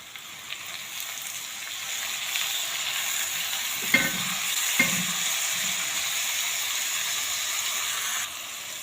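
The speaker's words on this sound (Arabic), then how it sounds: "ودبلة البصله هننزل عليها بالطماطم والفلفل" Wilted onion fries with tomatoes and peppers in a pan for a liver and gizzard dish. A steady, close sizzle hisses throughout, broken by two brief clatters of stirring near the middle, with no voices.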